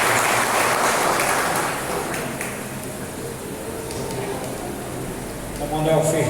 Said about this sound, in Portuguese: uma forte salva de palmas a eles de receptividade